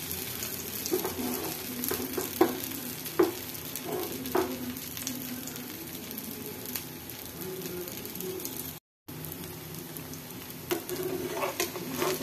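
Atta dumplings with onion frying in oil in a pan, a soft continuous sizzle with scattered pops and stirring clicks, a brief gap near the end.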